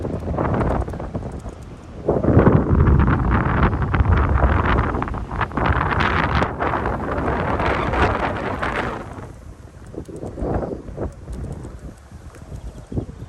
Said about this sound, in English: the wind is blowing pretty hard, so you're probably not going to be able to hear me